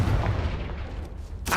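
The Confringo explosion spell from the video game Hogwarts Legacy lands as a deep, booming blast with a rumbling decay, and a sharp burst hits near the end of the brief clip.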